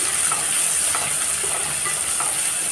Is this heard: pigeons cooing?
no